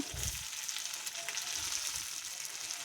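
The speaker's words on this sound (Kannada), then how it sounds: "ಟೊಮೆಟೊ ಕೂಡ ಚೆನ್ನಾಗಿ ಫ್ರೈ ಆಗ್ತಾ ಇದೆ" Four or five tomatoes fry with onions in a pan for tomato bath, producing a steady, close hiss and crackle with a couple of soft low stirring thumps.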